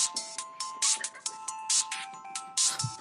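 A mobile phone ringtone from an incoming call plays as a loud, rhythmic electronic melody of short repeated bursts, sounding several times alone with no talk.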